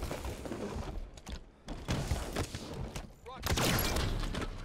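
Gunfire in a Halo 5 multiplayer match: bursts of shots crackle in clusters across the clip, fairly loud and busy, with game effects mixed in and no clear talk over it.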